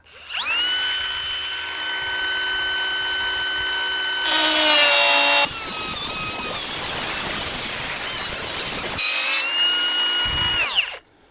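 An angle grinder fitted with a thin Distar Colibri 76mm diamond disc spins up with a high whine, then bites into sandstone with a harsh, gritty cutting roar in two bursts before winding down, loud and close.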